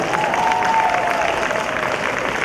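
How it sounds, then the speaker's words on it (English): A conference audience breaks into applause, a short steady burst of clapping with a faint tonal line in the background. "This is the part where you clap wildly and go crazy."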